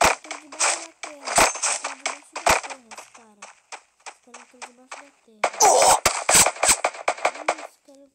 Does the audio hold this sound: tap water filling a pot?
no